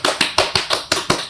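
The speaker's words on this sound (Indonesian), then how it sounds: "Tepuk tangan lo" Quick, even hand clapping on The Voice Indonesia stage, six sharp close claps in a steady rhythm about a fifth of a second apart, with no talking over them.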